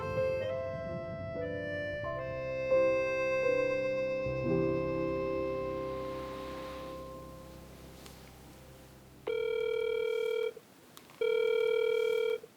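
A phone rings for an outgoing video call, first a melodic electronic ringtone that fades, then two clear, evenly spaced ringback tone bursts near the end, heard alone without talk.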